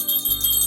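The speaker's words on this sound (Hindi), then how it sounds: "आप ना ये घंटी बजा देना ऐसे" A small hand bell rings brightly, its high metallic jingle repeating in quick shakes through the short clip, loud and close with no talk over it.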